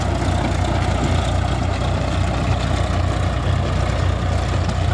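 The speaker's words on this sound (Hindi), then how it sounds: "ये देखिए बहुत ही गजब काम कर रहा है ट्रैक्टर।" A 744 FE 4 Star power steering tractor engine runs steadily close by, a loud, low diesel chug with an even throbbing rhythm and no talk.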